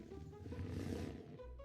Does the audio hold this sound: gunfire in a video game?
no